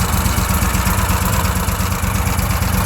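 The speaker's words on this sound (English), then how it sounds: "You can actually hear the motor." An Argo Avenger 8x8 amphibious vehicle's engine idles steadily, a continuous low rumble with broadband hiss that stays even and fairly loud throughout, with no talk over it.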